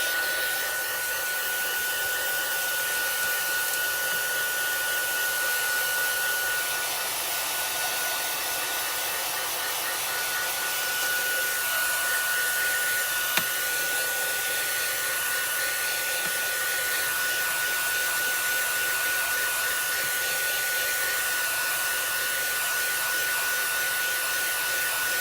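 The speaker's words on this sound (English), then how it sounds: "Let me take my heat gun to it" A heat gun runs continuously at a steady, loud whooshing roar with a fixed tonal whine, drying stamped ink on paper at close range.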